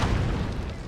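A deep, rumbling boom from cannon fire in Napoleon Total War, a single heavy low blast filling the whole short moment, loud and close without speech.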